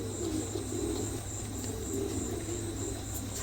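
A male pigeon fusses with soft, low cooing, repeated in short rolling bursts against a steady background hum and faint insect-like hiss.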